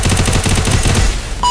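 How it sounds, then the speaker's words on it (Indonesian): Loud, dense burst of video game gunfire and blasts in an online shooter, with rapid repeated cracks through the first second, then a brief lull and a short chime at the end. "Oh, meledak gitu loh."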